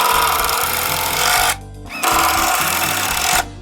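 Power drill driving screws through wood during a garage wall storage build, a loud close whirring run that stops briefly and then starts again for another couple of seconds.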